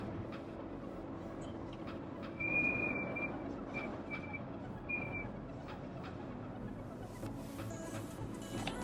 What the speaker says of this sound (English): That whistling is the breeze which is coming inside in these cabins.